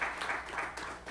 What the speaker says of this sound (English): give God a hand clap of praise this morning if you believe that.